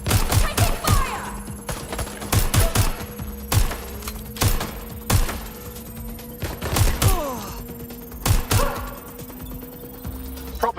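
Video game gunfire crackles in repeated bursts and single sharp shots, near and loud, spread irregularly across the whole stretch with brief gaps between volleys.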